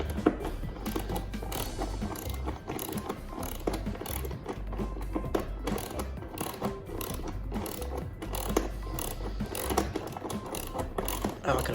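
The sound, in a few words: wrench loosening bolts on push mower engine top cover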